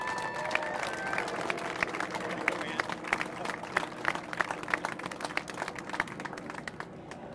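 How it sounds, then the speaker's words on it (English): Scattered outdoor clapping from a small crowd at a park ribbon-cutting ceremony, honoring the people who built the park, with sharp individual claps over a murmur of voices and background noise. "Give them a round of applause"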